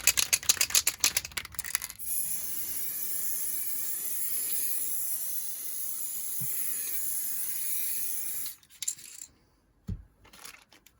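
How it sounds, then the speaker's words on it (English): Rapid pump clicks, then a long steady hiss of layering spray close by onto model railway scenery foliage, followed by a few more short spritzes and a faint tap. "Back to the layering spray."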